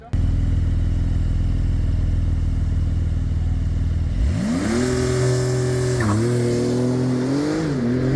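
Porsche 911 Turbo S on a track during a road show, a loud steady engine drone that suddenly rises in pitch as it revs and accelerates, with a gear-shift dip partway through.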